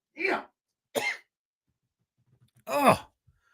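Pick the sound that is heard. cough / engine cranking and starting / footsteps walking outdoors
cough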